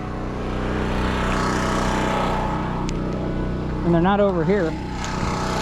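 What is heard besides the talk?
generator running while warming up for mobile welding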